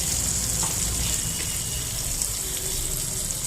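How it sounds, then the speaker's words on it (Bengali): Onion goes into hot oil in a home kitchen pan for a fish curry with potato and cauliflower, giving a constant close sizzling hiss over a low background rumble. "এবারে এই তেলেতে একটু পেঁয়াজ দিয়ে দেবো"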